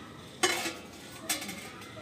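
Metal pots and utensils handled and set down during Chhath Puja preparations, two sharp clanks about a second apart over a quiet room background.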